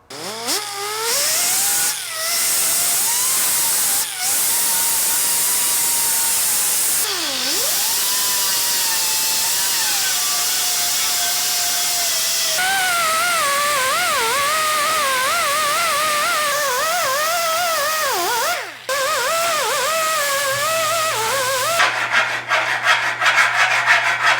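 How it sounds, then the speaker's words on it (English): Front end body panels on a Pontiac GTO restomod are sanded with a power tool, giving a loud, close, continuous whining drone whose pitch wavers and shifts. It stops briefly a few times, and no one speaks. "Let's get these things sanded up."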